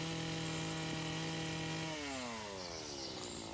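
A chainsaw scrapes and carves wood while shaping fur detail on a carving, its high whine holding steady, then dropping and sliding in pitch as the bar bites into the wood, close and alone without talk.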